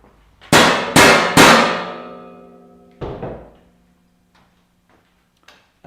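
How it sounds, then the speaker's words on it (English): An axe strikes several times at close range in a garage during a Honda CX500 clutch cable repair: three loud ringing metallic clangs in quick succession, then a fourth after a pause, each with a long decaying ring, followed by faint knocks. "So now it's the time to take your trusty axe"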